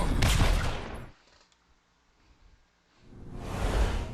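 A carbine rifle in a video game lets off two loud, close bursts of rapid gunfire, with a quiet gap between them.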